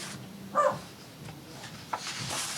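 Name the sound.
dog barking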